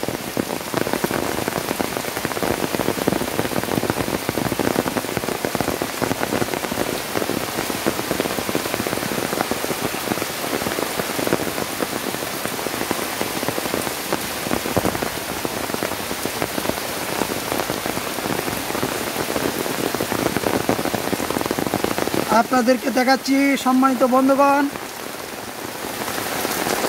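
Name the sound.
heavy rain in a village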